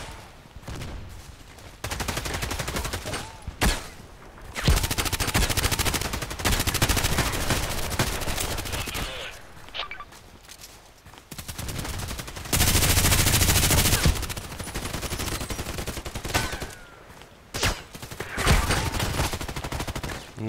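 Bursts of automatic machine gun fire in the Contract Wars shooter game, loud and close, firing in repeated sustained volleys with short gaps between them, no talking.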